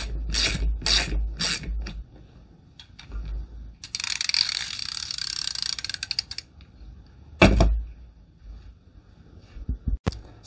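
A Parkside multi-socket ratchet tool turns a bolt up close: several quick bursts of ratchet clicking and rasping strokes, broken by pauses and a sharp knock, with no voices.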